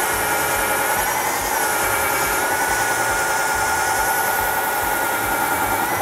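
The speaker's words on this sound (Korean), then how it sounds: "이렇게 걸린 게 뭐냐면 이제 철근을 만났다는 뜻이에요" An MX 14-inch core drill bores into steel-reinforced concrete and binds on rebar, giving a loud, steady grinding drone with no pauses or voices.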